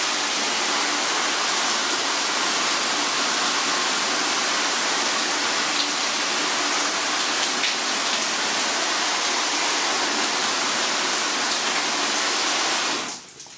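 A garden hose nozzle on its mist setting gives a steady, loud, even hiss of fine spray for about thirteen seconds, then cuts off abruptly at the end.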